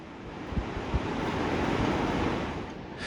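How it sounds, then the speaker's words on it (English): Turbulent river water rushing below Victoria Falls, a steady close roar of churning water with wind noise on the microphone and a couple of soft low thumps early on, no speech. "Behind the waterfall, the river is still wild and turbulent."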